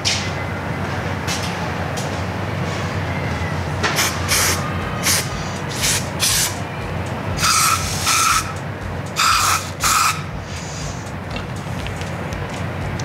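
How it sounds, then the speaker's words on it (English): Lubricant sprays in several short, sharp hissing bursts from an aerosol can while new ODI grips are fitted to the handlebar of a 2019 Royal Enfield Continental GT 650. The bursts come in a loose cluster over a steady background hum. "So let's spray it on,"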